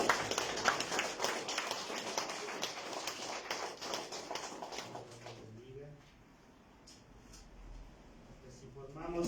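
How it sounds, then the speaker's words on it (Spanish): A congregation at a Sunday church service claps for about five seconds, close and lively with individual slaps audible, then it stops and a voice speaks over quiet room tone. "Le damos un aplauso al Señor."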